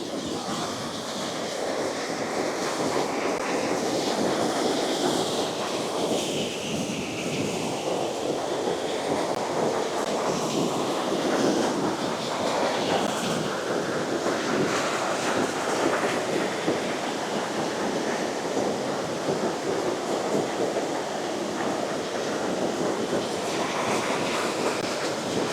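A strong mountain river near a campsite rushes in a loud, unbroken roar of churning water, steady and close throughout, with no clear voices above it.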